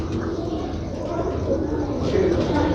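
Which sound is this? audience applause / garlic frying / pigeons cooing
pigeons cooing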